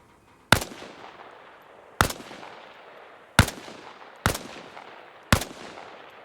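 Five sharp rifle shots ring out one at a time at irregular intervals in ARMA, each a crisp close crack with a short decaying tail and near silence between.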